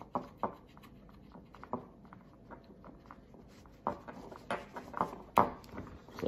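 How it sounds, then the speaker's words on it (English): A knife trims excess cork from a duck call insert with quiet scraping and small clicking cuts. The short strokes come close together and sound faint and near, with no talking. "So we'll take handy dandy knife and you just cut the excess off."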